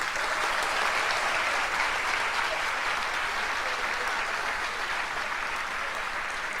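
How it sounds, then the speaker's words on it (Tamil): Sustained applause from an audience honoring Ravi Maharaj at a Swami Vivekananda chariot procession commemoration, a dense, steady wash of many hands clapping at even loudness throughout with no voices over it. "ஒரு ரவி மகராஜுக்கு ஒரு பலத்த கைத்தட்டல்களை கொடுங்க"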